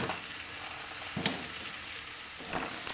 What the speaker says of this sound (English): We want it to sear a little bit, just get a little tender.